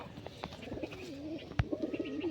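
Pigeons coo softly and repeatedly, a low warbling murmur over faint background noise.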